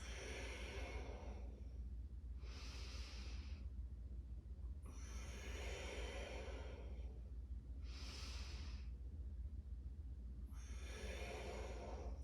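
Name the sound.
deep yoga breathing, inhales and exhales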